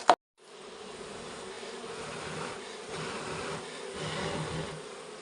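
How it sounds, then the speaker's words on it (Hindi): Honey bees drone at an opened beehive in a hill village in Uttarakhand while being cleared from the combs. A sharp click comes first, then a continuous, dense buzzing that swells gently. "मधुमक्खियों को भगा रहे हैं पहले छत्तों से।"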